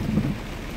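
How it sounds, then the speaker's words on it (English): Heavy rain pours in a dense, steady roar with a low rumbling undertone, no voices. "It's raining like hell"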